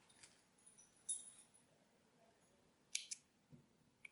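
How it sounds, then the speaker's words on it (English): Scissors snip through crochet yarn in a quiet room, a few faint, crisp clicks spaced apart with near silence between them. "And now I can cut off my yarn"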